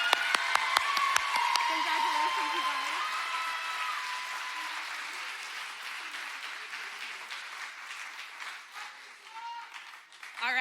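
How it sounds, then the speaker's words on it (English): Applause for staff at a youth club awards event, a crowd clapping steadily from the start and gradually thinning, with a few loud nearby claps early, cheering voices and a voice calling out over the clapping. "Can we give them a round of applause?"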